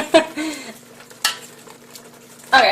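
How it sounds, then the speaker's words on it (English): Canned tomatoes are mashed in a pot for homemade tomato sauce, a few scattered wet squishes and utensil clinks against the pot, with brief talk and a faint steady hum underneath. "Let's keep mashing, mash."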